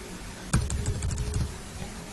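Quick light taps on a computer keyboard while a city name is entered into an online form, a short burst of close clicks over a faint background hum.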